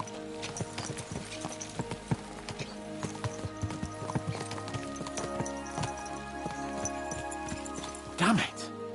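Horses' hooves clip-clop in a quick, steady trot in the medieval video game Kingdom Come Deliverance 2, close and continuous beneath voices talking, ending with a short snort or whinny.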